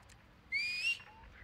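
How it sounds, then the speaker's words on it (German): A single short whistled note from a character in the video game Star Wars Outlaws, clear and close, lasting about half a second over a quiet low background hum. "ich pfeife"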